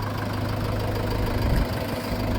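A wood delivery truck fitted with a crane idles in winter, a steady low diesel rumble with a faint knocking vibration, close and continuous.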